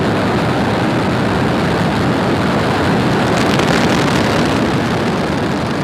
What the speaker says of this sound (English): Ignition. Engines full power. And liftoff.